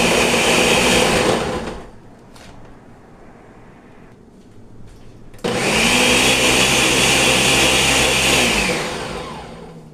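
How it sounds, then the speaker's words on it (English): A kitchen blender whirs loudly through frozen cassava, running in two bursts with a dull pause between, the motor's steady high drone starting and cutting off abruptly. "Because they are frozen, I have to blend them."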